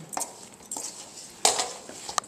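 A spoon stirs crabmeat dressing in a pot, scraping and clinking against the sides in a few short, irregular strokes, close and fairly quiet, with a sharper knock near the middle.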